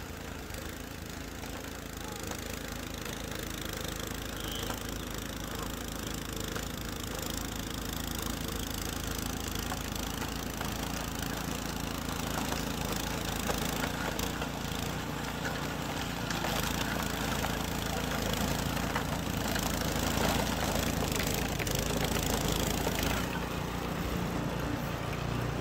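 A Troy-Bilt 2420 snow blower engine drones steadily at a constant pitch while clearing snow along a street in fourth gear, a continuous mid-level mechanical hum with no pauses.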